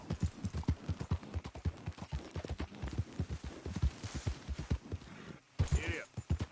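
Horse hooves in Red Dead Redemption 2, a rapid rhythmic clip-clop of a galloping mount, loud and close, with a voice speaking over it.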